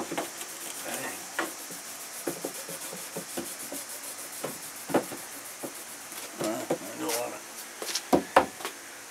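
A hand rubbing finish into a wooden table a few inches at a time, with soft, close rubbing and scuffing strokes in an uneven rhythm, plus a few light knocks.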